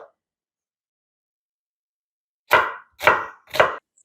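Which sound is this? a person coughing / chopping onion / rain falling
chopping onion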